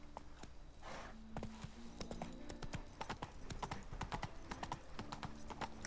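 Roach, a horse in the video game The Witcher 3: Blood and Wine, gallops with a quick, steady clip-clop of hooves close by. A faint whoosh is heard early on, and there is no talking.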